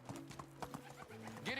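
Horse hooves clip-clop at a quick, even trot in the medieval village game Medieval Dynasty, with a brief whinny near the end, all fairly quiet and close, with no talking over them.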